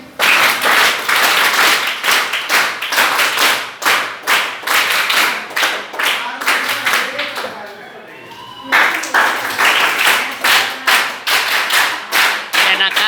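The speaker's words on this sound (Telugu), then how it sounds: "మా చప్పట్లుతో సార్కి ఒకసారి స్వాగతం పలుకుతాం" An audience claps to welcome a guest at a foundation event, producing loud, rhythmic bursts of applause that pause briefly mid-way and then resume with full energy.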